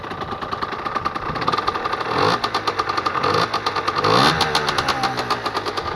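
A Beta 50 RR enduro motorcycle, still cold, idles up close with a steady, slightly uneven putter and a couple of brief swells in revs.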